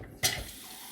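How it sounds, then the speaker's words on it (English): Water poured into paper pulp for handmade paper, a brief splash that quickly settles into a soft trickle, close and alone without speech. "now I'm going to go and put some water"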